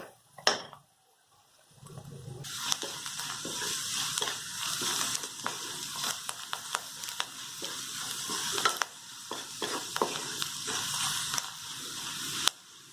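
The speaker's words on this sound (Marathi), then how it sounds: "आता कांदा लालसर होईपर्यंत भाजून घेऊया." Chopped onion sizzles steadily in a pan over low gas heat for a spicy sandge curry, a continuous close frying hiss broken by occasional scraping stirs and light clinks.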